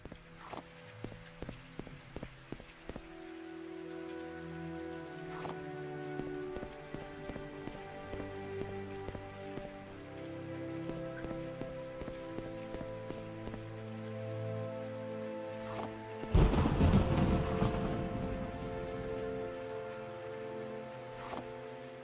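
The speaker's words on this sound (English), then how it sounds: "it's actually raining there right now" Steady rain in a video game patters on a surface with scattered drips and a few footstep-like taps, with a brief louder burst of splashing noise partway through.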